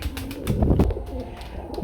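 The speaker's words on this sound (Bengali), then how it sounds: "একজোড়া পাখি কবুতর রয়েছে" A pair of big pigeons gives low coos close by, mixed with a few sharp rustling knocks that swell in the middle and then ease off.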